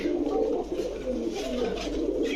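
Pigeons coo continuously in a pigeon shop, their soft throaty calls overlapping in a close, steady chorus with no pauses.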